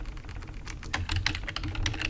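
Rapid typing on a computer keyboard while working in the ArmA 3 Eden Editor, a dense run of close, clicky keystrokes that grows faster and louder partway through, with no voice.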